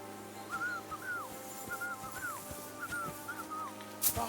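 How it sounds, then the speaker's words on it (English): A man's repeated whistled phrases in Kingdom Come: Deliverance II, short rising-and-falling tunes coming every half second or so over a steady hum of in-game ambience, with a sharp hiss near the end. "Your whistling is getting on my fucking nerves the whole way."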